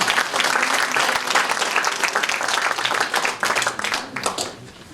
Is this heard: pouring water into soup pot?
no